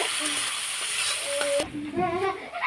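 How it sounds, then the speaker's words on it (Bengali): Bay leaf, whole cumin and cardamom sizzle in hot oil in a pan with a steady, close frying hiss, followed by some clattering utensil sounds. "তেজপাতা, গোটা জিরে আর এলাচ দিয়ে ফোড়ন দিয়ে দিলাম।"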